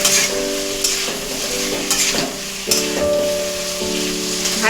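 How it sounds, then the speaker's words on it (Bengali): Pumpkin pieces are stir-fried with spice masala in a pan. A close, crackling sizzle runs throughout, broken by several sharp stirring scrapes, with a faint steady tone beneath. "এবার মিষ্টি কুমড়োর সাথে মশলাটা ভালো করে কষিয়ে নেব"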